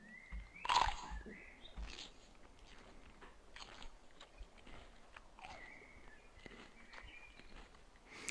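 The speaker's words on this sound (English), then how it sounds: "Those uncomfortably realistic chewing sounds." A creature chews in the video game Fatum Betula with loud, wet, realistic bites, one sharp crunch early and then softer repeated chewing and small clicks, alone without talk.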